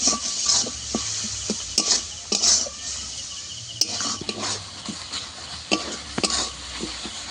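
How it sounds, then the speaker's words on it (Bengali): Spice masala with tomato, chili powder, coriander powder and water being stirred and sautéed in a pan for chicken and potato curry, with repeated scraping clinks of a utensil over a soft, steady background sizzle, close and fairly quiet. "মশলা কষিয়ে নেব।"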